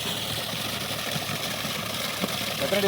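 A vehicle engine idles just after pulling up: a steady, low, even rumble holds at moderate loudness throughout, with faint background noise and no clear talk.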